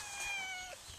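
A cat lets out one drawn-out, high meow that slides downward at the end, close by but soft, with faint background noise and no talking.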